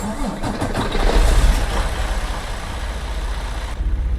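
An old Freightliner Cascadia truck engine cranks and fires up in American Truck Simulator, a loud, close rumble that settles into a steady diesel idle.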